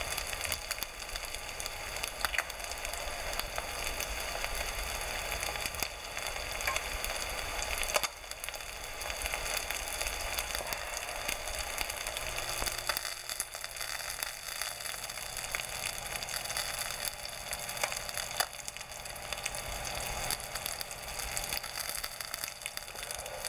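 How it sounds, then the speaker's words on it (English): Bass fillet frying in a pan, a steady broadband crackle and hiss of oil sizzling continuously at close range with no talking. "the fillet is really cooking up pretty fast there"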